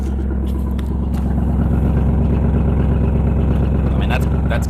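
A cold Pontiac Trans Am idles just after a cold start, its engine giving a loud, steady, throbbing rumble close by, with faint talk drifting in.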